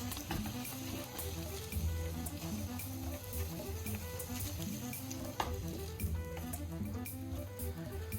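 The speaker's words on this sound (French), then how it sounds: "je verse une deuxième partie d'omelette" Beaten egg for tamagoyaki, a Japanese rolled omelette, sizzles steadily in an oiled pan. A soft, continuous crackle runs throughout, with a few light clicks of utensils against the pan.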